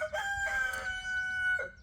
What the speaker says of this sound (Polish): tyle słychać koguta, bo jest od razu obok